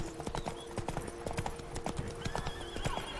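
Geralt's horse trotting in The Witcher 3: Blood and Wine gives steady, rhythmic clip-clop hoofbeats on the ground, close and continuous, over a faint sustained game ambience.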